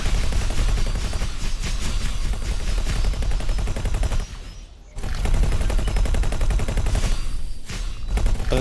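Turret gunfire aimed at a ship in the space game X4: Foundations: dense, continuous rattling bursts of shots, loud and close, with a brief lull near the middle before the barrage resumes.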